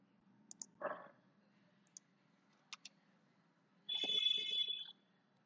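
Several sharp keyboard clicks come while commands are typed on a computer, the terminal of a Red Hat Enterprise Linux server, with isolated taps followed by a brighter burst of keystrokes near the end, quiet and close with no talk.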